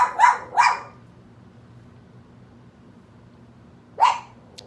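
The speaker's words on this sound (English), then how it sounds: "Apparently we can't do a video without my dog freaking out unless I'm in the bathtub." A pet dog barks indoors, two sharp loud barks in quick succession, then a pause and one more bark, with quiet room tone in between.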